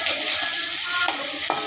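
Chopped raw banana frying in a pan with dried red chilies and curry leaves, a steady close hiss of sizzling oil with a couple of scrapes from stirring.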